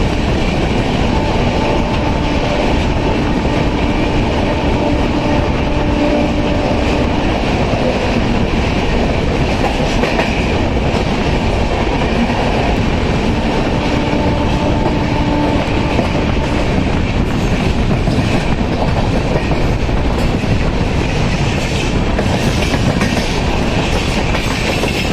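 Sampoorna Kranti Express train running on rails, steady loud clickety-clack of wheels over track joints with continuous rumbling throughout.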